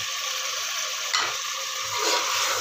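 Beef with spices frying in a pot and being stirred, a loud constant sizzle with a scrape of the spoon through it, close and without talking.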